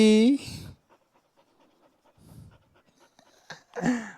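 A dog pants in quick, breathy bursts, with a whiny vocal sound at the start and end and quiet gaps between.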